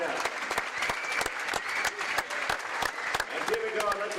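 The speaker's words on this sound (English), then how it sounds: "let's have one more round of applause for seniors McKeem Loudermill and Jerome Bynum" A crowd at a women's basketball game between Bellevue and Valley City applauds a senior player with steady, dense clapping and a few sharp individual claps, while an announcer talks faintly over it.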